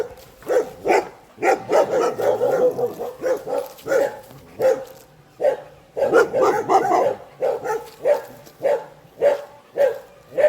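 Dogs bark repeatedly at passers-by defending their territory, a steady series of loud close woofs and yips in quick bursts, with no talking.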